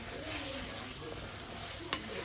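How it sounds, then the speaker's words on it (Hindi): Onion and tomato masala fries in a pan with salt as it is stirred, giving a soft, steady sizzle with faint scraping and one brief clink near the end, heard quietly and without talk. "टमाटर को थोड़ा चला लेंगे और साथ साथ नमक ऐड कर लेंगे ताकि प्याज टमाटर हमारा थोड़ा सॉफ्ट हो जाए"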